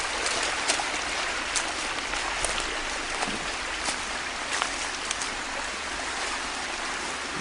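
A mountain stream runs over rocks with waterfalls near Summerhill Pyramid in British Columbia, giving a constant bright rushing hiss with small splashy surges throughout.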